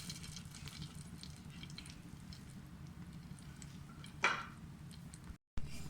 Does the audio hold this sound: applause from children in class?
no